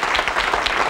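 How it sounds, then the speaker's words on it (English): Studio audience applause at a cooking show, a brief burst of dense clapping filling the whole moment, loud and close. "Let's give Randy a round of applause"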